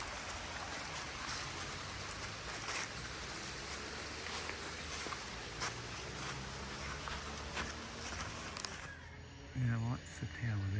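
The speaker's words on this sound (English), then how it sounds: "Listen to the water." Water flows steadily near the Italian village of Tovo, a constant close splashing rush that fills the scene before fading into quieter outdoor air with a few soft sounds at the end.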